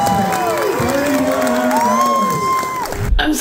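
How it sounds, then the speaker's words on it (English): Audience at a reptile show auction cheering and clapping after a winning bid, with crowd noise and whoops building over a few seconds. "Round of applause for the Floridian Mikey B's."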